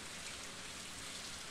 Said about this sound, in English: It's raining, hooray.